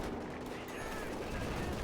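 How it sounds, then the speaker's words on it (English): Continuous rattle of an MG 42 machine gun mounted on a Panzer IV's pintle in Company of Heroes 2, a dense sustained burst layered over a busy battlefield din, with a commentator's voice faintly underneath. "Panzer 4 there, adding the pin-mounted machine gun gewehr. 42."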